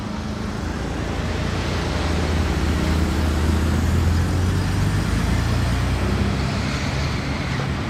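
A Mercedes 300 SL coupé drives past in Monaco, its steady engine drone rising and easing with the low hum of the road and other traffic throughout.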